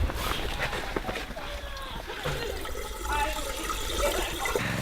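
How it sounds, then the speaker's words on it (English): Water poured into the intake of a pump to prime it while setting up a backyard ice rink, a steady outdoor splashing and gurgling wash heard close, with people talking over it. "pour some water in here to prime the pump"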